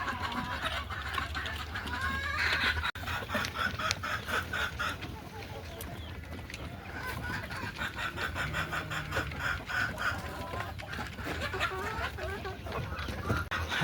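Desi chickens cluck steadily on a poultry farm, close and continuous with overlapping calls and occasional louder squawks throughout.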